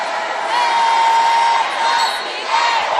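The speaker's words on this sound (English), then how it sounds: "As the crowd comes alive" Basketball crowd at a 2019 SIAC college game between Miles College and Tuskegee roars in a sustained, loud wash of cheering and shouting that swells, dips briefly, then rises again.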